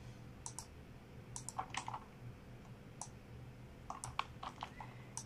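Light, quiet computer keyboard typing while entering VBA code in Excel, with scattered irregular key clicks in small bursts over a low steady hum.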